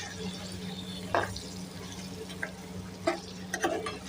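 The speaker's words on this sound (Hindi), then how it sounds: "तो इसमें हमने आलू डाल दिए हैं, ठीक है। इसको मिक्स करते हैं" Potatoes being stirred into fried masala in a pot for achari aloo, giving a few soft scraping clinks over a steady low kitchen hum.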